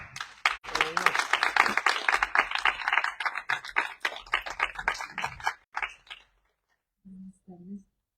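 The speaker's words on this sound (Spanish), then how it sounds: "A quien pido, por favor, un fuerte aplauso." Audience at a book presentation in Tacámbaro breaks into loud, dense applause that gradually thins into scattered claps and fades out, followed by a brief spoken voice.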